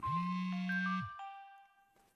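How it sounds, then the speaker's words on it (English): In the video game Inhuman Resources, a phone alarm gives a bright electronic chime over a low buzzing drone that cuts off after a second, leaving ringing tones that fade away. "Your phone's alarm is simply much too loud to ignore."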